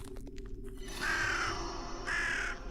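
Crow caws in a video game, two drawn-out harsh calls rising over a steady low background of game ambience, fairly loud and close, with no talking.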